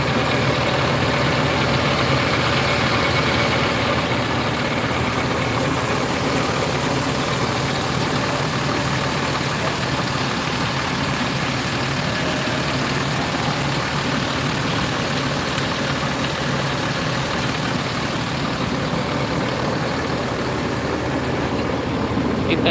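A bus on a Mercedes 1526 NG chassis idles at a terminal, a steady, low, continuous diesel rumble that holds constant throughout without talk.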